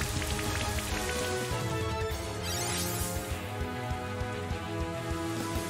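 Continuous rain weather effect from a Pokémon video game, a steady dense patter playing loudly under game music with no voices.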